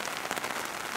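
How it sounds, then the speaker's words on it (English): Steady rain falling at a backcountry fishing camp, a continuous soft hiss of drops on surfaces with faint patters throughout the short stretch, no voices. "it's going to rain all day today into tomorrow"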